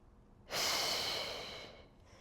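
One deep, slow breath during a Pilates exercise, a long airy exhale that swells quickly and fades gradually, close and alone.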